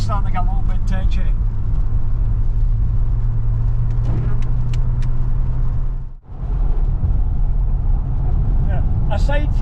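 A Vauxhall Cavalier GSi drives along the road, its steady engine drone and road rumble loud and continuous throughout, briefly dipping near the end, with faint voices over the top.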